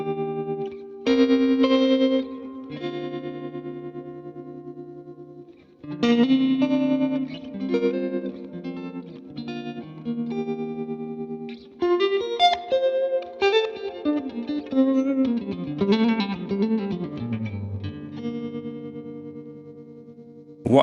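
An electric guitar through a fast tremolo effect plays chords and picked phrases, the notes pulsing rapidly in volume, with pauses between passages and no voices.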